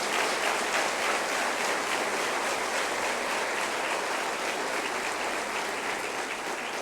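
A church congregation applauds steadily throughout, a dense, even wash of clapping with no talk over it.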